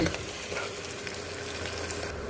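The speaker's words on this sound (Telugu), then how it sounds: "ఆనియన్స్, పచ్చిమిర్చి వేసుకుందాము. వేగుతుందండి." Onions and green chillies fry in a few spoonfuls of oil in a pressure cooker, giving a steady, close, dense sizzle that runs unbroken without any voices.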